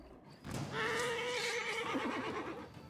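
Horse neighing in the Pathfinder: Wrath of the Righteous video game, a loud, sustained whinny with a quavering, trailing end, close and alone, with faint hoof clip-clop.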